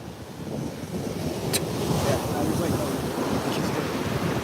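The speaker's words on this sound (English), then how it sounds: "It's fucking windy on the beach." Strong wind buffets the microphone while surf roars on a South Jersey beach during a hurricane, a dense continuous wash of wind and waves with no voices.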